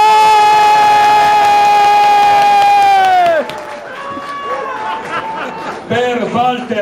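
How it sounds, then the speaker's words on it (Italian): Crowd cheering and applause at a music gathering in Pordenone, loud shouts and whistles from a large audience. Voices rise and fade in bursts, with a strong tonal cry at the start and scattered shouting after it. "applausi"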